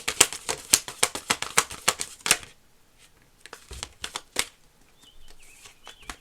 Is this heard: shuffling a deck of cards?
yes